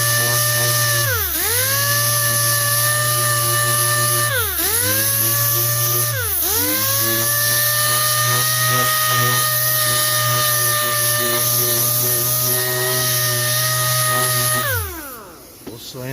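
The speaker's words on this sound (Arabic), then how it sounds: "دي صنفرة 600، صنفرة 600 على الجاف." Dry sanding of a cloudy car headlight lens with 600-grit sandpaper by power tool, a steady loud whirring drone that dips and restarts twice early on, then runs continuously before stopping near the end.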